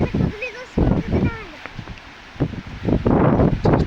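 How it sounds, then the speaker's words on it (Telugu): Strong gusts buffet the microphone on a hillside while trees are being planted, coming in heavy rumbling bursts with brief lulls, loud and close, as someone talks. "గాలి అయితే చాలా ఎక్కువ వేస్తుంది"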